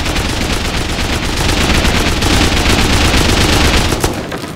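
Explosive 5.56 rounds from an M249 in the video game Rust hammer a wooden wall, a loud, unbroken burst of rapid automatic fire lasting several seconds with no voices.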